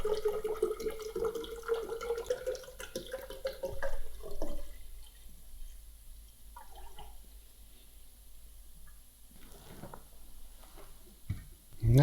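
Liquid pours steadily into a container to top up film developing chemicals to 600 millilitres, the filling tone rising over the first four seconds, followed by quieter drips and handling noises.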